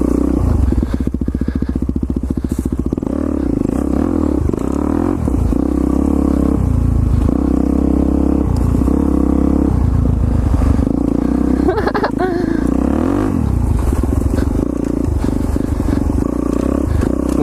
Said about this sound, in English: We out here straight drifting with the Supermoto.